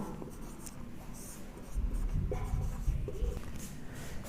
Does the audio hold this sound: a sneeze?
no